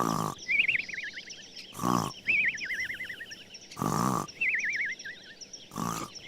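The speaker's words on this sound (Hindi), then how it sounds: "बच्चों को ढूंढ रही बकरी ने उसके खर्राटे सुने।" A cartoon wolf snores under a tree in four regular cycles, each a deep rasping inhale followed by a warbling, whistling exhale, close and clear with no other sound.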